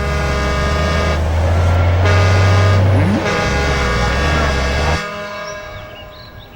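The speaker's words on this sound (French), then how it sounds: "Regardez, comme si ça ne suffisait pas, voilà des bus." Buses pulling in, from the Inazuma Eleven anime: a loud, steady engine rumble and roar with a brief horn-like tone. It runs for about five seconds, then drops off sharply to a quieter tail, with no talk.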